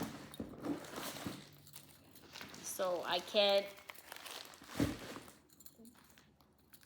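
Cross stitch pattern papers are shuffled in a few crinkly, rustling bursts, with a voice speaking briefly between them.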